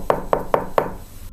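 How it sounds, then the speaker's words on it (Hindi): Four soft, evenly spaced knocks on a wooden door, quiet and close, alone against a hushed, still background, like a horror-story effect. "कि तभी दरवाजे पर हल्की सी आवाज हुई"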